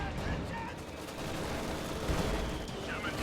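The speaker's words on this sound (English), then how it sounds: "Heavy mortars are bombarding this area" Heavy mortars bombarding an area in a video game battle, producing a dense, continuous barrage of rumbling blasts and crackling gunfire at steady loudness throughout.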